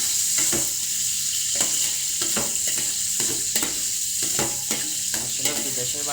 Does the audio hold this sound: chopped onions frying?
yes